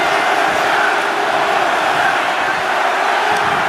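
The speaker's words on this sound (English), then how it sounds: "This capacity crowd is really willing these competitors on." A capacity arena crowd in the wrestling video game WWE 2K25 roars continuously, a dense, loud, steady wall of cheering with a commentator's voice faintly mixed in.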